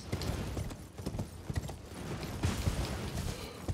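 A horse gallops across a canyon in a video game, its hooves drumming in a quick, steady clip-clop rhythm that sounds loud and close, with no talking.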